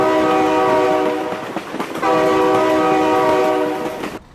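A train in the BeamNG Drive video game blasts a loud, sustained multi-tone horn in two long blows with a short break between, over rumbling rail noise, before cutting off abruptly.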